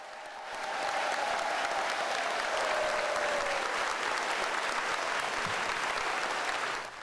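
A large congregation gives sustained, even applause to acclaim a new bishop's ordination in Mauritius, a dense wash of clapping that rises quickly, holds steady for several seconds and then cuts off.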